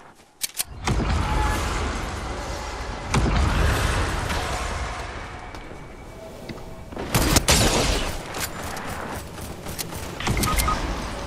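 Rapid video-game gunfire in Fortnite, with dense bursts of shots and booms filling most of the stretch, louder flurries near the start and around the middle, continuing steadily without talk.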